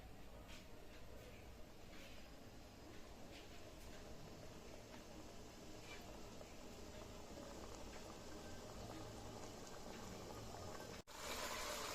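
Sauce for Bengali parshe fish curry (parshe macher jhal) boiling in a pan: a steady, quiet bubbling simmer that runs throughout, with a brief break near the end.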